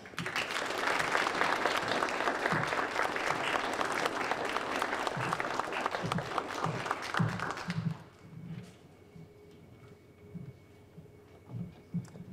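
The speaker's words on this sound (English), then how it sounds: "And a very warm round of applause for the winner of the Award of Excellence in this category, Anya Krasowska" An audience at a writing awards ceremony gives a warm round of applause for an award winner, sustained clapping that fades out partway into scattered quiet sounds.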